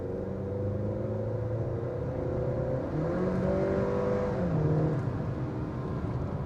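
A 2023 Acura TLX Base with 272 horsepower accelerates on a road test drive, its engine note climbing steadily through gears under a constant whir of tire and road noise, heard from inside the cabin.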